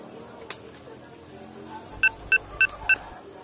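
Four short DTMF telephone keypad tones beep in an even rhythm, loud and clear over a faint room background with no talking.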